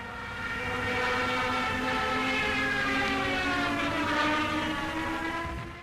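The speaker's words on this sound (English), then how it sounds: "sirens installed on the landing gear that emitted a loud, ghostly sound during the aircraft's dives" A loud, wailing Stuka dive siren, mounted on the landing gear of the WWII dive bomber, howls continuously, its layered tone slowly shifting in pitch and swelling before cutting off abruptly.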